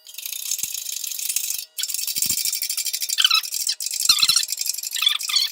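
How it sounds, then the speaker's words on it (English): A jack being tightened during a Grumman-style aircraft nose fork bushing replacement, producing close, rapid metallic ratcheting and rattling clicks in short bursts with a few brief pauses. "now tighten up the jack"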